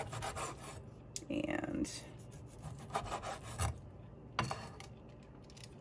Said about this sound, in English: I'm going to trim off a little bit of this fat